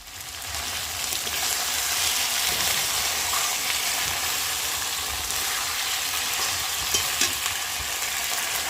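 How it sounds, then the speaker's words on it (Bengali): Dudh kochu taro pieces fry in oil in a pan in a home kitchen, giving a steady, even sizzle that runs on without a break, moderately close and with no one talking. "আলু ভাজাটা নামিয়ে দুধ কচুটা ভেজে নেব"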